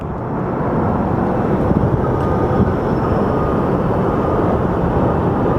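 Airplanes taxi and roll at Phoenix Sky Harbor Airport, a loud, continuous jet engine roar that stays steady and close throughout, with no voices.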